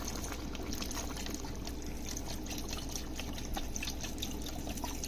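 A 48-ounce carton of Swanson chicken broth pours steadily into a soup pot for vegetable soup, a soft continuous liquid splash and trickle, faint and unbroken.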